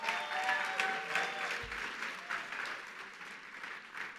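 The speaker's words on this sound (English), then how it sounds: "let's give them a big round of applause" A gala crowd gives sustained, even applause that stays moderately loud throughout, with a faint stray tone and a brief low thump partway through.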